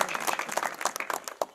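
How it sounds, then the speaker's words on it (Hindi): Audience applause at a stage event honoring freedom fighters, a short burst of brisk, fairly distant clapping from many hands with no speech over it. "इनके लिए भी जरा तालियां लगा दो"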